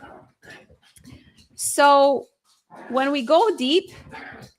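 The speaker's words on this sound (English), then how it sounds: "that's my dog doing zoomies at like 9 p.m." A dog doing zoomies indoors at night lets out a loud, drawn-out whining bark between stretches of a person talking, with faint scuffles in the background.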